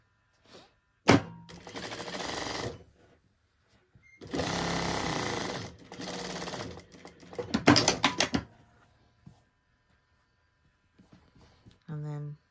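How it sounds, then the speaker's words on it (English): A sewing machine stitching along the overlocked edge of a trouser pocket runs in several close, loud bursts of rapid whirring separated by pauses, with clunks of fabric handling, and a voice speaks near the end. "I'm going to machine just on the edge of the overlocking."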